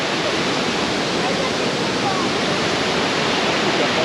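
Falls at Krka National Park give off a steady, loud roar of cascading water, an unbroken broadband rush close by.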